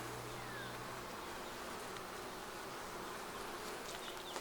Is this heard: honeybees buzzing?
yes